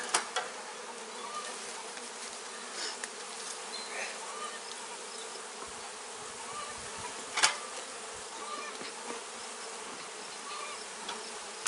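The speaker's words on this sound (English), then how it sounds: "A lot of bees. Lots of bees. Good sign, lots of bees." A dense swarm of honey bees hums continuously inside an opened hive during an inspection, a steady crowded drone with occasional faint clicks and knocks.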